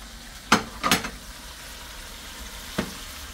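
Shrimp fry in a pan with garlic, dill and butter, giving a steady low sizzle with a few sharp clacks of stirring or scraping near the start and one more later, close up and without talk.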